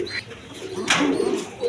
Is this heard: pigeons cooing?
yes